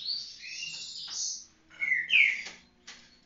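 A caged green-winged saltator sings close by in a few bright, whistled phrases with short pauses between them, clear against a quiet background.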